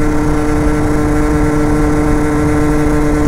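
A Rieju MRT 50 moped with a Tecnigas Enox exhaust and about 13,000 km on the engine drones at a steady high speed of nearly 70, a constant loud buzzing hum recorded close from the rider's position.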